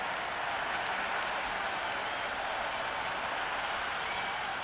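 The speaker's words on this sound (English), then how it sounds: "Will you listen to that crowd? They are loving this." A large crowd in the Cricket 26 video game, at a Big Bash match, cheers and applauds after a boundary shot, a dense, steady roar of clapping and voices that fills the whole stretch without a break.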